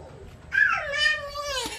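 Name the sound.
cat meowing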